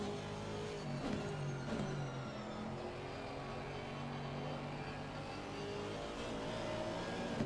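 GT race cars lapping Brands Hatch in Assetto Corsa Competizione, engines droning and whining at a moderate distance with a couple of rising passes, a continuous racing hum throughout.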